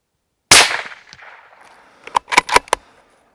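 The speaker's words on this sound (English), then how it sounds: "we shot that muntjac" Rifle shot fired at a muntjac deer, one sharp loud crack with a decaying echo, followed after a pause by a quick cluster of fainter clicks and knocks.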